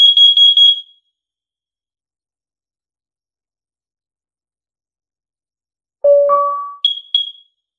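A Nest Protect smoke and carbon monoxide alarm in test mode gives a loud, close burst of rapid high beeps, then long silence, then a falling two-tone chime and two more short high beeps.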